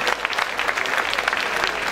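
An outdoor concert audience in Montecelio near Rome, at a charity show for Rieti earthquake relief, claps for a bassist, a dense close burst of applause with individual hand claps standing out.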